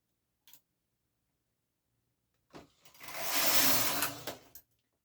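A Brother knitting machine knits jacquard border needles: a brief click, a pause, then a harsh carriage swish and clatter lasting about two seconds, close and alone.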